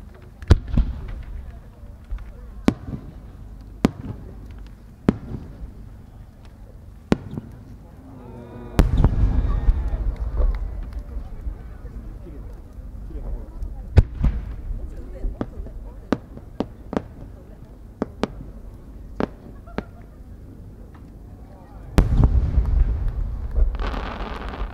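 Fireworks burst one after another at irregular intervals at the 2018 Omagari fireworks competition in Japan, sharp distant booms echoing out, with denser rumbling volleys near the middle and the end.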